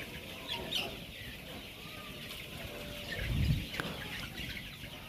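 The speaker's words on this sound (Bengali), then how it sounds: "সবাই আমাদের সোনালী মুরগির ফার্ম দেখেন।" Sonali chickens on a poultry farm of about 1200 birds give scattered clucks and a brief flurry of wing flaps over a steady, soft background hum, heard at a modest distance.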